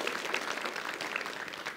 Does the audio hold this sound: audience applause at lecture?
yes